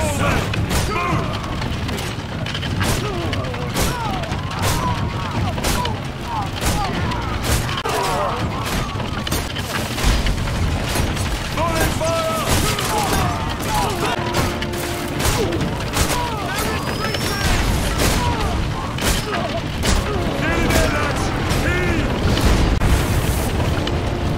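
A Scorpio siege weapon fires repeatedly in a Roman battle in Ryse: Son of Rome, loud heavy thumps and mechanical cracks recurring over a dense, chaotic battle din, with shouting voices mixed in.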